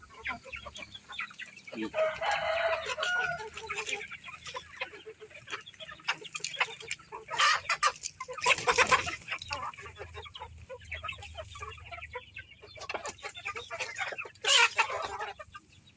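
Backyard pet chickens cluck busily during feeding while a rooster crows loudly a few times over the flock. A person speaks now and then amid the birds.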